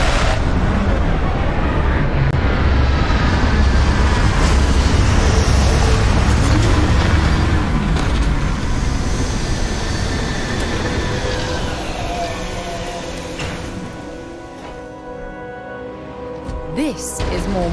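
Spaceship landing in the game Starfield, a loud sustained rumbling roar that stays heavy and steady, then eases toward the end as the engines wind down, with a few mechanical clanks near the close.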